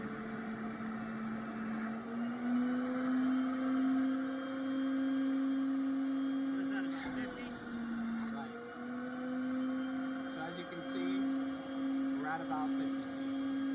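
A portable carpet extractor vacuum motor runs steadily and loud, holding a constant whine throughout with brief clunks and shifts in pitch partway through, close up.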